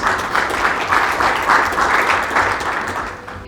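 Steady, dense applause from a large audience at the FIFPRO Africa football players' congress in Gaborone, sustained at an even level for a few seconds before tapering slightly at the end.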